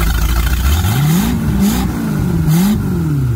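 A carbureted Mercruiser 5.7 V8 boat engine runs on the ground out of a boat, a loud, steady low rumble with rising and falling rev swells, close by and alone.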